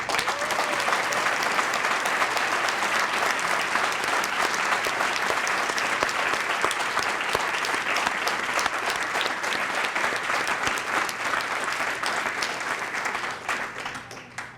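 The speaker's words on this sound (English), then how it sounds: "deserves a very thunderous round of applause" An audience at a Dr. Martin Luther King Jr. birthday celebration in Meadville gives a long, thunderous round of applause, dense sustained clapping that fades a little at the end.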